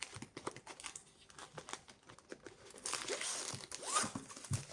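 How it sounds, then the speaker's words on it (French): Crinkly plastic packaging rustles and crackles as a cross-stitch kit is unwrapped, starting with scattered light crunches and rising into a denser, louder run of crinkling near the end. "On déballe, on déballe, on déballe."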